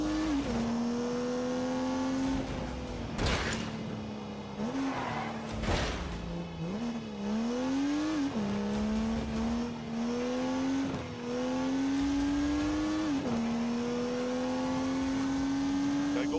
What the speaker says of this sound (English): unleashed 365 rampaging horsepower from the turbocharged 3-litre straight six